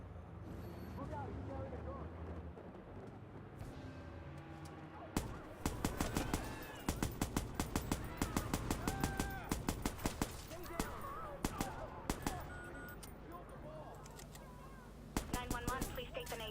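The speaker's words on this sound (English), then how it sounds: "Someone's shooting" Automatic gunfire from a shootout in the video game Watch Dogs, loud rapid bursts of closely spaced shots starting a few seconds in and recurring in volleys, with a low rumbling background and voices speaking over the opening.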